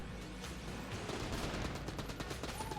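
Rapid AK rifle fire in the video game Enter the Gungeon, a dense continuous burst of overlapping shots with game effects layered over it, loud and with no talking.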